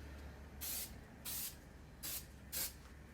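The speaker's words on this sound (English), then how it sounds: "I'm just going to spray" Spray adhesive is sprayed onto car seat foam in four short, close hissing bursts separated by brief pauses, with no talk.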